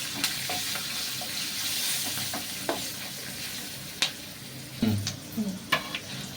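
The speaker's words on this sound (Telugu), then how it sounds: "పోపు వేగిపోయిందండి" Tempering spices crackle and sizzle in hot oil with turmeric, with scattered sharp pops and a spoon scraping and stirring through the pan.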